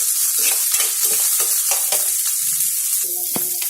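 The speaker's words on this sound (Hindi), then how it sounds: "मटर को भी हम थोड़ा भून लेंगे" Green peas and half a teaspoon of grated ginger frying in a pan give a loud, steady sizzle, with the spatula scraping through the mix in repeated strokes close by.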